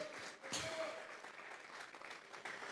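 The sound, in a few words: congregation applauding in church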